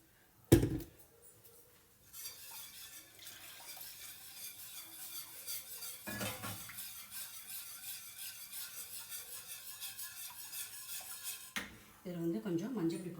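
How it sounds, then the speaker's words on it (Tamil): A spoon scraping and stirring a gram flour batter in a metal pan on the stove, an opening clank followed by steady soft scraping and clinking strokes that run on, with a voice speaking briefly near the end. "கைவிடாமல் கலந்துகிட்டே இருக்கணும்"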